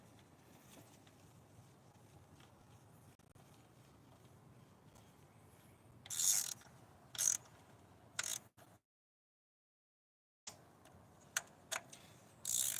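A ratchet tightens a spark plug in a car engine, giving quiet, sharp bursts of clicking. Short runs of clicks are spaced apart, with a brief silent gap between them.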